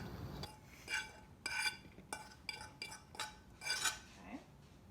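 Sliced turkey is tossed into a salad bowl while kitchen containers and utensils clink and clatter in a series of sharp close knocks, roughly a dozen irregular hits over a quiet room with no talking.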